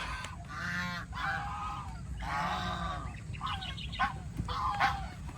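Several geese honk loudly and close by on a farm, in repeated bursts of harsh, nasal calls with short pauses between them and a steady outdoor background.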